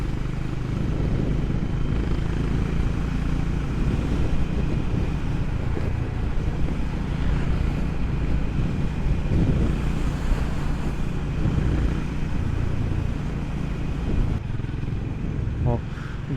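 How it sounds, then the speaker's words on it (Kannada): Strong cool sea wind buffets the microphone near the coast at Rameswaram, with a dense, unbroken roar and rumble throughout. "ಸಖತ್ ಕೂಲ್ ಗಾಳಿ ಬೀಸ್ತಾ ಇದೆ ಇಲ್ಲಿ."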